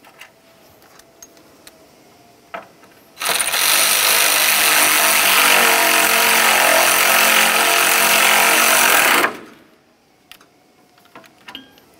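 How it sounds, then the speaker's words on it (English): A power ratchet snugs a horn mounting bolt on a 2004-2006 Scion xB during radiator replacement: one loud, continuous buzzing whir lasting about six seconds, close up, with faint clicks and handling noises before and after. "start in our mounting bolt, and snug it up"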